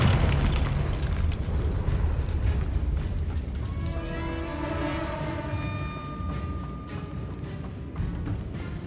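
Confringo blasting curse explosions in Hogwarts Legacy rumble with dense, continuous low booms and crackling debris, while a bright ringing magical shimmer rises midway through the barrage.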